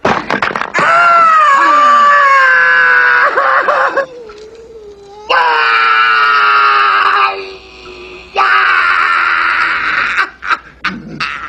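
Loud, shrill screaming from a recorded comedy sketch comes in three long sustained bursts separated by brief gaps, ending in short choppy fragments.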